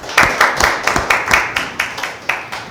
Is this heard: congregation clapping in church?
yes